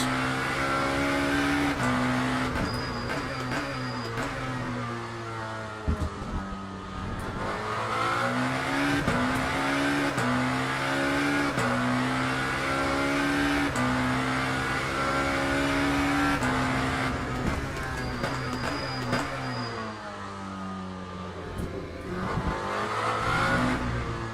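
A race car driven in the video game Le Mans Ultimate makes loud engine tones that rise and fall through repeated gear changes and braking, with brief tire squeal.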